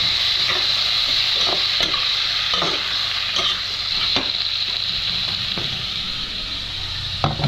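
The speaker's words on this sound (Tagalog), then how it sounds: "Ilagay na natin yung shrimp." Shrimp sizzles steadily in lemon garlic butter in a pan, Capiz style, with a continuous frying hiss and several scraping stirs of a utensil spaced through it, no voices.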